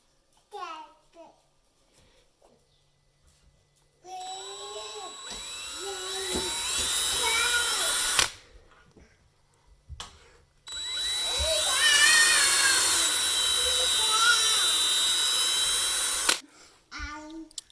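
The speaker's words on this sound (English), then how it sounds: "just drill your 2 holes on each bracket" An electric drill bores holes for toddler railing brackets in two sustained bursts, its high whine rising and shifting under load, with a voice chattering through the drilling and in the gaps.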